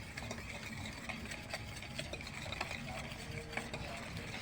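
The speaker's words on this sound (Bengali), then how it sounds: "এটাকে ফেটাই নিচ্ছে এবার" A mixture is beaten in a bowl with quick, rhythmic tapping and whisking strokes, close and moderately quiet over a faint background hum.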